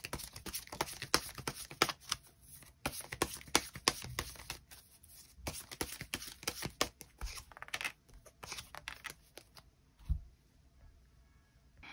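Tarot cards being shuffled and drawn from a deck, a dense run of papery riffles, slaps and card flicks, close and fairly loud, with no talking.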